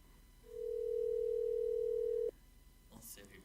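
A steady telephone dial tone sounds for about two seconds while a call is placed, then cuts off, followed by faint room noise and a soft rustle.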